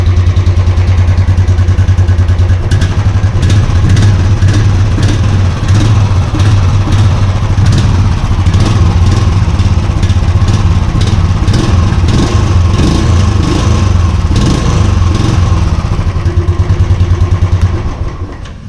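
A Royal Enfield motorcycle engine idles close by with a heavy, steady thumping chug and metallic clatter, running continuously for almost twenty seconds before tapering at the end.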